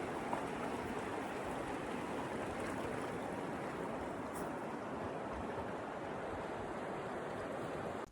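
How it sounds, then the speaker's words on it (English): A river rushes steadily just below a wilderness meadow camp, its broad, continuous water roar filling the scene at close range with no talk over it. "River's just right down there."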